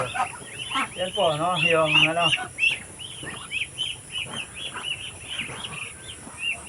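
Muscovy ducks at morning feeding time on a provincial farm give a steady run of close, chirpy calls and cackles, while someone talks over them for the first few seconds.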